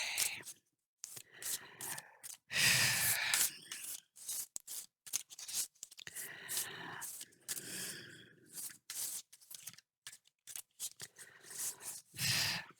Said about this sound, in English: Let me keep shuffling and we'll see.